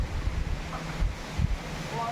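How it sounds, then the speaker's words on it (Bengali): Strong wind blowing outdoors on a cloudy, humid day, a steady low rumble of gusts buffeting the microphone with brief louder surges. "সকাল থেকে প্রচন্ড হাওয়া দিচ্ছে"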